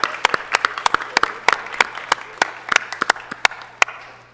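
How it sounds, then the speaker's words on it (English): Applause at a city council meeting, sparse and distinct: individual hand claps from a small group ring out close and loud in an uneven rhythm, then fade toward the end. "Let's give them a round of applause."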